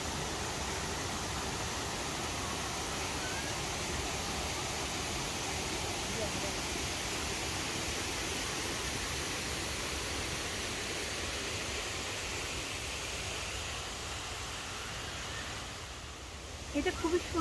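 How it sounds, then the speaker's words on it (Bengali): A hillside waterfall gives a steady, even wash of falling water, loud and constant throughout, with a little movement near the end. "আমরা চলে এসেছি, এইটা হচ্ছে ঝর্ণা"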